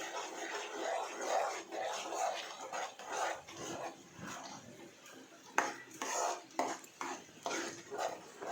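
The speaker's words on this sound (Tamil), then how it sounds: "இப்போது கைவிடாமல் கிளற ஆரம்பிச்சிருங்க." A utensil scrapes and clatters against a metal pot in steady, repeated stirring strokes while cooking rava pongal, close by, with no talking.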